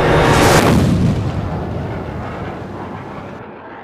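A warship's naval gun fires a single loud, close blast that booms at once and then rolls away in a long, slowly fading rumble, with no voices.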